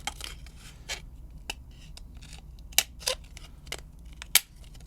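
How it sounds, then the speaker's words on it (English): Scissors cutting a plastic microphone adapter from a DIY microphone kit: a series of sharp, close snips and cracks at an irregular pace over a quiet background. "So I'll grab my scissors and get to work on that."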